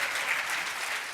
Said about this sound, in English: Oh, you can clap louder than that